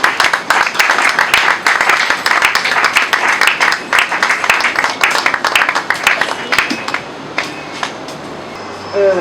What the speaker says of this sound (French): Et cela sous vos applaudissements